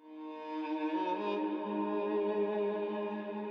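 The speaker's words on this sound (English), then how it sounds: "and then finally washing that erhu out with the Valhalla reverb." Erhu melody bathed in FabFilter processing and Valhalla reverb, a sustained bowed tone with a rich ringing wash that swells in and holds steadily, alone without voices.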